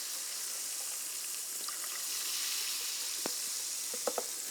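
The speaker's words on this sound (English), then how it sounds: "you open up this can of club soda and you pour it halfway into this mug." Club soda being poured into a mug fizzes with a steady, faint hiss of bubbles, a few small clinks and splashes toward the end, close and quiet with no one speaking.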